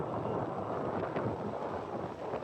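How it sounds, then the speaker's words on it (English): Steady wind roars across the microphone on a Brisbane ferry on Moreton Bay, a continuous broadband rush with gentle gusts and a low rumble from the boat underneath. "Nice and windy here."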